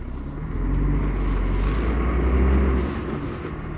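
A motorhome rolling along the road toward Bad Dürrheim, its steady low engine drone and road rumble filling the cabin, close and fairly loud with no talking.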